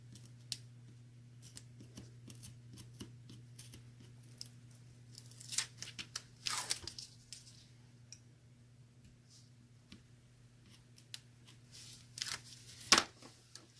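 Score tape for a Disney-themed album is pulled and handled with a few short, crisp rips and crackles, quiet and close over a steady low hum, with brief scattered ticks between.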